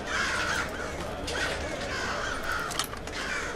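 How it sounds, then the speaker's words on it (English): Crows caw repeatedly in a steady run of harsh calls, stirred up by a noise in the stealth video game Thief, heard close and clear over a constant background hiss. "When I missed that, the noise set off the birds."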